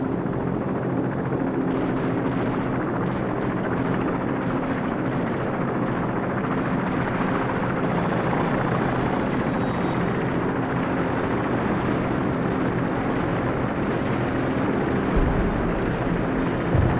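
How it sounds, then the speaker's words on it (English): A steady, heavy rotor roar of helicopters flying overhead in Call of Duty 4, continuous and loud throughout, with faint crackles of distant gunfire mixed in. "friendly helicopters entering the area"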